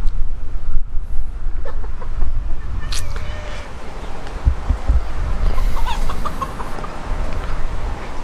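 Struma Bantam and bantam Brahma chickens cluck and squawk loudly nearby over steady wind rumble, with a few sharper calls mixed in and no talking.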